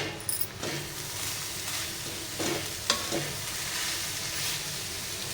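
Ginger and garlic roasting with grated coconut for Malvani masala over medium heat, a steady close sizzle and frying crackle with occasional stirring scrapes throughout.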